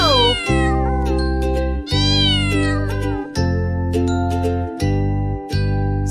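A cartoon kitten gives repeated drawn-out meows over the steady tones of a bright nursery rhyme tune, each meow separated by short pauses.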